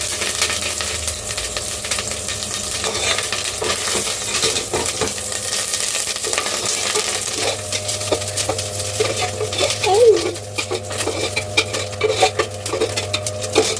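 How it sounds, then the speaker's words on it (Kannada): Garlic and curry leaves frying in a pan while making pepper chicken, a steady close sizzle with scattered clinks and scrapes of a utensil against the pan. "ಈಗ ಬೆಳ್ಳುಳ್ಳಿ ಹಾಕ್ತಿದ್ದೀನಿ, ಅದು ಫ್ರೈ ಆಗ್ತಿದೆ."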